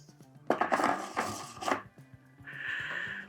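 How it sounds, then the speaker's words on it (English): Homemade Sangiovese wine must being stirred in a fermenting vessel, heard as a few splashy, scraping sloshes in quick succession followed by a brief rattling swirl, close and fairly loud over a faint hum. "I'm going to stir it"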